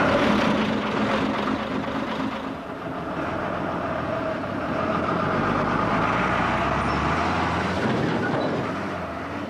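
A lorry driving at night north on the M6 motorway toward Manchester: steady broadband road and engine roar, continuous and moderately loud, with a slight swell midway and no talk.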